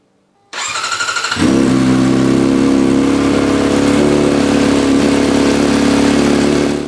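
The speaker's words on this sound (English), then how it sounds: "I'll also fire up the bike just so that it can move the oil through the system and drain back down" A 2024 Kawasaki ZX-4R four-cylinder motorcycle cranks briefly with the starter, fires up and settles into a loud, steady high-pitched idle close by, with no talking.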